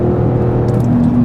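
A 2016 Porsche Cayenne all-wheel-drive SUV with a V6 engine revs steadily, giving a loud, continuous low rumble and whir close by with no talk over it.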